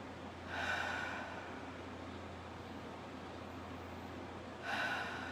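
Slow, deep breathing during a guided meditation: two soft airy breaths about four seconds apart over a low, steady background hum.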